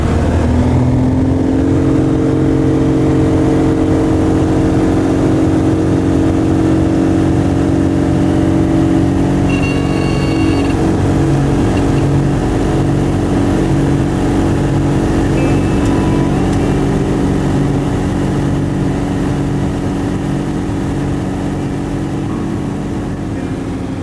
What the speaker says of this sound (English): check out this roar of the engine coming out of Soldotna